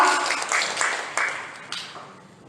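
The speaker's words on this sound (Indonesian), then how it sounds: "Beri tepuk tangan yang meriah untuk calon gubernur kita." Applause from an audience at a student government (BEM FKIP) gubernatorial candidate debate, a short burst of clapping that swells in uneven waves and then fades away over a couple of seconds.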